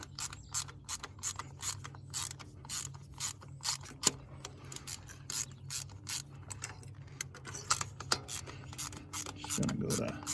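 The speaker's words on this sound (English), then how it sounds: "We have got a 5/8 spark plug socket on this." Ratchet clicking rapidly as it turns a 5/8 spark plug socket on a Toyota RAV4 engine, steady bursts of close, crisp metallic ticks repeating over several seconds, fairly quiet.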